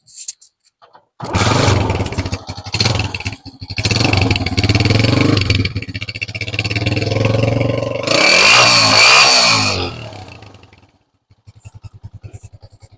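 A loud modified Honda 125 motorcycle engine revs repeatedly, rising and falling in bursts, then settles into a rough idle near the end.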